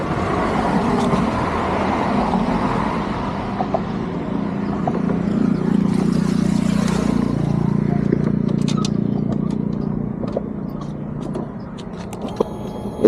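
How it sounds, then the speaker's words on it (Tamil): A KTM RC 390 motorcycle engine starts and idles nearby, a low rumbling hum that rises and holds, then eases off, with some background street noise and light clicks. "நான் உங்களுக்கு ஆன் பண்ணி சவுண்டு காட்டுறேன் எப்படி இருக்குன்னு"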